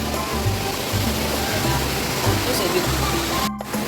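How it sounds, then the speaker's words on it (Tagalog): A small waterfall at Pulang Bato resort in Malabo, Valencia, Negros Oriental gives off a steady, close, full-bodied rush of falling water that runs unbroken throughout, with faint low voices murmuring beneath it. "makikita namin dito ang mga falls"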